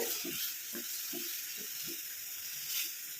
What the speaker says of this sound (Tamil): இந்த மாதிரி நல்லா கிண்டி விட்டுட்டே இருக்கணும், அப்போ தான் நல்லா கரையும் உங்களுக்கு